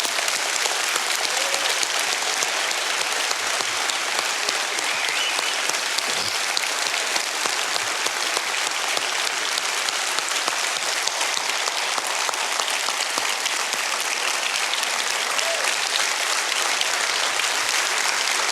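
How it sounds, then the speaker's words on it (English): A crowd gives a long, loud round of applause honoring veterans at an event, dense continuous clapping that holds steady for the full stretch without any talking over it. "Let's give them a big round of applause."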